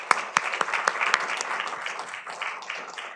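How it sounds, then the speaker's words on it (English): Applause from a lecture audience at a philosophy of law talk, beginning with several distinct sharp claps up close and spreading into a moderate, steady patter that gradually thins out. "Please join me in welcoming Professor Brian Z. Tamanaha with a big round of applause"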